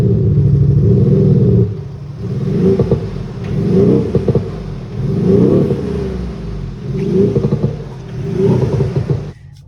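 A diesel car engine revs repeatedly in a deep, aggressive tone, five or six pulsing blips rising and falling with pauses between, close and loud with no one talking.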